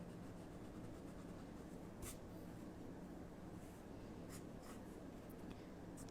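A pencil sketches a ruffle on a fashion drawing, faint soft scratchy strokes with a few brief sharper marks over a low, even background hum, with no voices.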